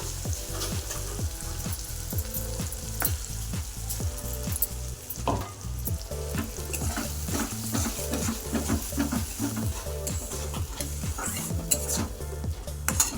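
Fish curry (macher jhol) cooks in a pan, sizzling steadily while a spoon stirs and scrapes against the metal in a quick repeating rhythm, close and fairly loud.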